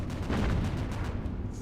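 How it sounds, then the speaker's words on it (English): Anti-aircraft flak fire in the naval combat game Battlestations: Pacific, a dense, continuous rumble of overlapping booms and bursts, loud and steady throughout. "Flak."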